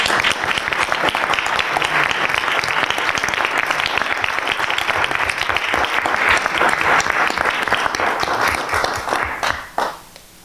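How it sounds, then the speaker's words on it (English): Warm round of audience applause at a school board meeting, many hands clapping steadily and loudly for about nine seconds before quickly dying away into near quiet. "if we could give her a round of applause"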